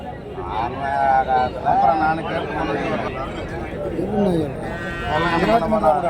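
Jersey calves at a cattle market in Karimangalam, Dharmapuri district: several drawn-out moos and bleating calls, close and fairly loud, over a background of crowd chatter and people talking.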